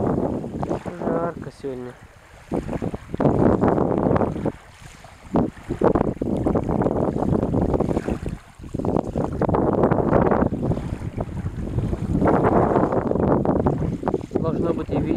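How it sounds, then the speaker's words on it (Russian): Wind-driven waves lap on Lake Sivash, a shallow salty lake, with steady gusty wind buffeting the microphone throughout; someone speaks briefly over the surf and wind. "Волны."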